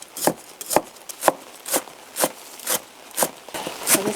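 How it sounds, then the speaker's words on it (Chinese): A knife chopping wild garlic (xiaosuan) on a board: steady, evenly spaced knocks about two per second, close and crisp, with no talk. "小蒜切碎。"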